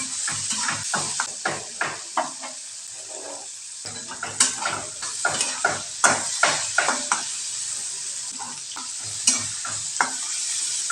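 Bitter gourd stirred in a hot pan for a mustard-paste dish, with a steady sizzle of frying under repeated scraping spoon strokes against the metal, loud and close and falling into a fairly regular rhythm.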